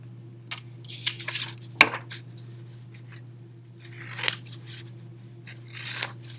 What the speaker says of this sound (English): So I like to snip off the corners first.